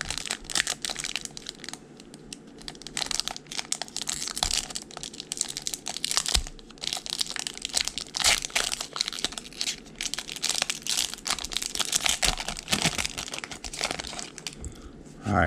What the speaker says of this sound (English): let's go ahead and rip over in Silver Tempest first